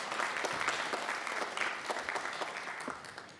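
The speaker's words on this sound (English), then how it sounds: "Yeah, you can clap for her too." A congregation at a Shabbat evening service breaks into steady, dense clapping that fills the room at moderate volume and carries on throughout without any voices.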